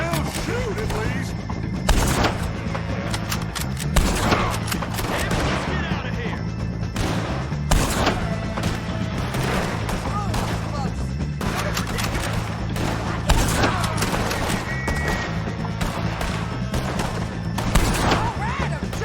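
Near-constant gunfire in Red Dead Redemption 2, with rapid rifle and pistol shots cracking over and over in a loud, dense fusillade for nearly twenty seconds, a few heavier blasts standing out in the barrage.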